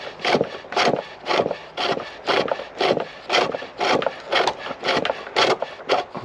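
A pole lathe spins a wooden spindle back and forth while a tool cuts a groove into it, giving a close rhythmic scraping rasp in about a dozen regular strokes, each one followed by a short pause.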